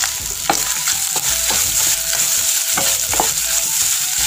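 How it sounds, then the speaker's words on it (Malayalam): Grated coconut frying with roasted urad dal in a pan, a loud continuous sizzle punctuated by repeated scraping strokes of a spatula as it is stirred, with no talking. "എന്നിട്ടത് ചുവപ്പ് നിറമാവണ വരെ വഴറ്റി കൊടുത്തുകൊണ്ടേ ഇരിക്കാം, ഇളക്കി കൊടുത്തുകൊണ്ടേ ഇരിക്കാം കേട്ടോ."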